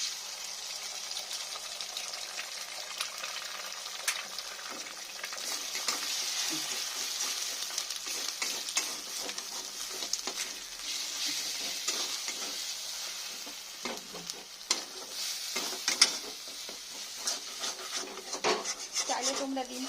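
An egg cracked into a little oil in a wok with spices for a potato and pointed gourd curry, sizzling and being stirred and scraped steadily, with irregular scraping knocks against the pan.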